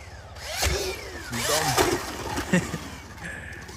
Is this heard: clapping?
no